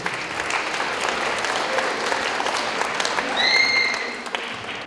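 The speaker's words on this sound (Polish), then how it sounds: "Jeszcze raz wielkie brawa." An audience applauds at an International Day of Persons with Disabilities event in Krynica-Zdrój, with steady, moderately loud clapping from a crowd that swells slightly near the end, and a bright whistle-like tone also sounds.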